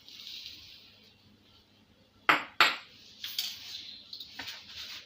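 A utensil stirring coconut cake ingredients, salt and sugar, in a bowl, giving two loud clinks against the bowl followed by several softer scraping taps over a faint background hiss.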